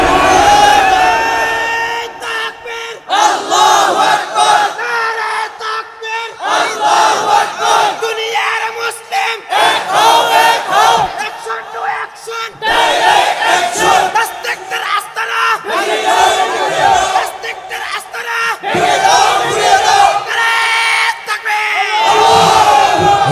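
Large crowd at a Bangladeshi religious gathering roaring a takbir chant in repeated loud bursts, mass voices swelling and falling in rhythm, close and dense throughout.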